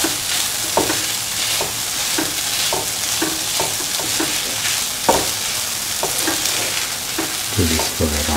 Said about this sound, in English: Put in the green chillies and the red chillies. Mix properly.